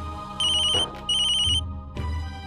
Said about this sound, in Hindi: दीदी मोहित का फोन है, बात कर लीजिए